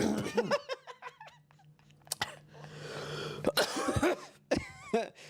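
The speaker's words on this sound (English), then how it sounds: "I'm gonna cough." Someone coughs several times up close, in short harsh bursts with pauses, mixed with throat clearing and a little breathy laughter.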